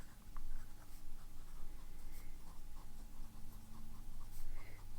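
Broad-nib fountain pen scratching across paper, a soft continuous scribbling texture with small strokes and pauses, close and quiet.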